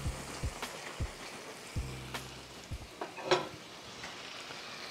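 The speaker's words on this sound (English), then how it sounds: "I'm gonna go ahead and add my black beans so they can begin cooking" Black beans hitting a pan of smoked queso fixings, giving a faint steady sizzle, broken by a few soft thuds and clinks of a spoon stirring.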